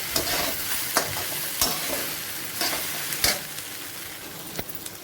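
Okra (ladies finger) sautéing in a pan: a steady soft sizzle with sharp scraping stirs of a spatula at irregular intervals, close and fairly quiet, without talk.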